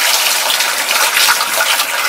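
Water gushing steadily from a faucet in an RV travel trailer being dewinterized, with pink antifreeze still flushing through the lines; a close, even, hissing flow with no pauses.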